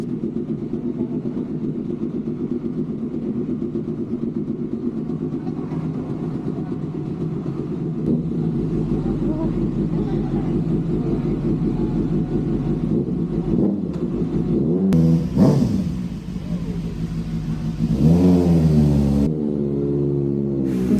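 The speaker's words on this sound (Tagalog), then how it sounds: "napakaganda ng tunog ng motor natin" A Kawasaki 6R motorcycle engine runs steadily, then revs up in a few rising bursts toward the end, loud and close, with no voices.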